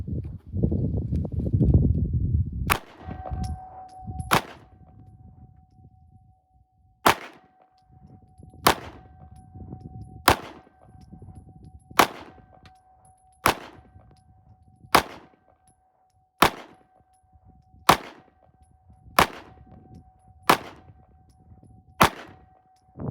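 A SIG Sauer P226 X Legion Carry pistol fires Winchester 115-grain rounds at a shooting range: about fifteen sharp, loud single shots spaced steadily roughly one to two seconds apart, with a low rumble and a faint steady tone between them.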